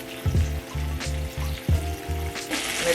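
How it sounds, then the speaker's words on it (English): Chicken frying in hot oil, a steady close sizzle and crackle that swells and pulses as pieces settle into the fryer, with no voices over it. "I'm going to begin the frying process."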